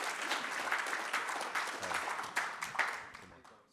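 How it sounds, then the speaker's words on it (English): An audience gives a round of applause at a live conversation event, steady clapping from a fairly large crowd that gradually fades out, with no talking over it. "if we could give a round of applause for Kumar as he shares his story"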